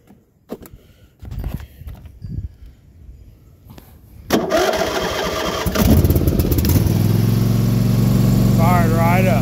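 A Husqvarna mower engine turns over after a few clicks and short cranking attempts, then catches and settles into a loud, steady running rumble close by.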